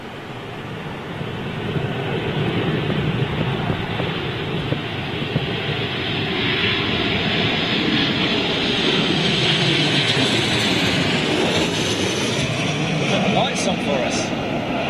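An SAS airliner in its original colour scheme with orange-painted engine cowls lands on runway 27L at London Heathrow during Storm Ellen, its engine roar steady and broad throughout amid heavy wind, with voices faintly present.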